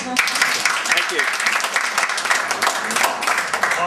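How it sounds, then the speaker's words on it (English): A forum audience applauding a convener's nomination, dense sustained clapping from many hands throughout, fairly close and loud, with voices mixed in. "Everyone applaud."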